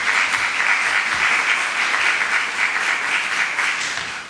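A lecture audience applauds as Dr. Juan José Carvajales is introduced before presenting his doctoral thesis, a dense, continuous round of clapping from many people that stays loud throughout and tapers a little at the end.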